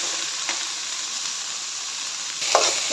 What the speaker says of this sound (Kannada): ಎಣ್ಣೆಲಿ ಫ್ರೈ ಮಾಡ್ಕೋಬೇಕು.